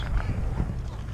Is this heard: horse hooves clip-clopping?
yes